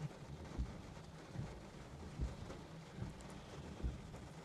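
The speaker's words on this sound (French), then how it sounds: "l'orage est en train d'aborder la commune de Castelnau-le-Lez" Thunderstorm reaching the commune of Castelnau-le-Lez, with steady rain noise and several low, dull rumbles of distant thunder at regular intervals, plus some wind buffeting.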